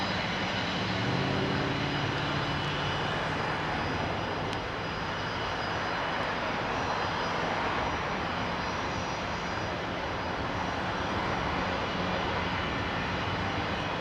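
A Cargojet Boeing 727-200F freighter takes off from runway 23 at Toronto Pearson, its jet engines roaring steadily and loudly for the whole stretch, with no talk over it.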